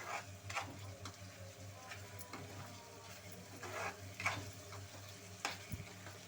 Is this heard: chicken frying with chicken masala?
yes